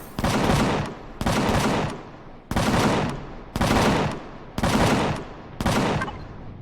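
Gunfire in the survival game Empyrion aimed at wildlife, six evenly spaced loud bursts about a second apart, each tailing off before the next.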